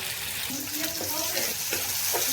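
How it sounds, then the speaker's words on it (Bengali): Spices frying in oil left from barbecued tilapia to make a sauce, giving a continuous close sizzle with light stirring scrapes against the pan. "এই মশলাগুলো এখন মাছের তেলে ভেজে একটা সস বানিয়ে নিব"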